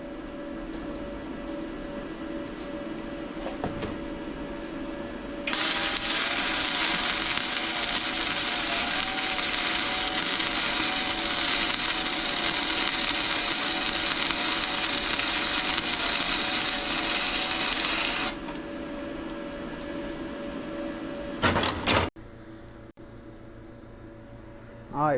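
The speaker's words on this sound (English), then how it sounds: "See if I can get a good weld." Welding on a 1995 Jeep YJ: a loud, steady crackling hiss runs close for about thirteen seconds, then stops, with quieter background hum before and after and a brief clatter near the end.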